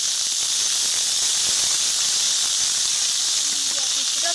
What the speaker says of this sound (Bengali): এইবার কিন্তু কিছুটা তেল দিয়ে বরবটি ভেজে নেব